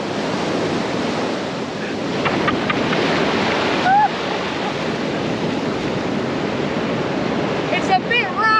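Rough surf rolls and washes steadily on a beach, with wind buffeting the microphone throughout and a few faint higher cries near the end.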